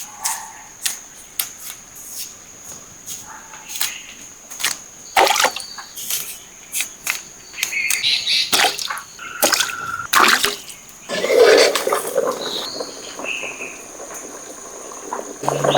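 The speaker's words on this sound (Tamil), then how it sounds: "அதனால் இப்படி தண்ணியில் போட்டுக்கிறோம்." Freshly peeled pieces are rinsed in a bowl of water in a home kitchen while preparing beef nalli gravy and fufu, with intermittent splashes, sloshing and light clinks, close and fairly loud, with no talking.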